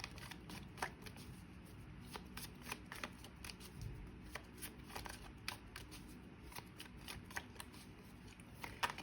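Tarot cards are shuffled continuously at close range, with dense papery riffling and repeated sharp slaps as the deck is cut and tapped. No voices.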